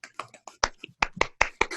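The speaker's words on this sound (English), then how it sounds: "Golf clap" Light, polite golf clapping from a few people in a small room, a dozen or so soft, quick claps in loose irregular rhythm lasting under two seconds.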